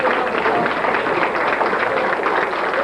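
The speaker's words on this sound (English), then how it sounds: "Let's give them a round of applause for all our performers tonight." Steady, dense applause from a banquet audience after a magic show, many hands clapping continuously at close range and holding an even loudness throughout.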